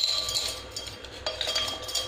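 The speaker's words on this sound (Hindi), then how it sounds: "सबसे पहले हम इसके अंदर डालेंगे आइस" Ice cubes drop into a glass while a falooda is being assembled, giving a string of bright, close clinks and chinks against the glass with no one speaking.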